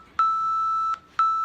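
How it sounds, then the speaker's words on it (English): A workout interval timer sounds its end signal, two long steady electronic beeps, each just under a second, with a short gap between them, clear and alone. "that signifies the end of the timer"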